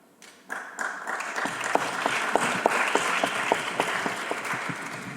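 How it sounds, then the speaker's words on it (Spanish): Audience applause at a Spanish book presentation event, swelling in quickly from quiet and settling into a steady, moderately loud clatter of many hands with distinct individual claps standing out. "yo creo que no hace falta aplaudir con cada respuesta"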